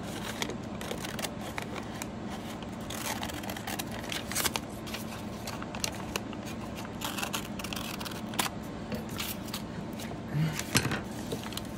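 Brown paper being rolled tightly by hand into a leaf shape, with soft, close crinkling and rustling that continues steadily, broken by a few sharper crackles.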